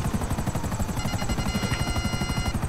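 A helicopter in the video game GTA 5, its steady rapid rotor chop thudding continuously and fairly loud throughout, with no talk over it.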